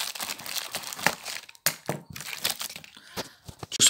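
Small scissors snipping open a paper envelope, with close crinkling and crunching paper sounds in quick irregular bursts and a brief pause midway.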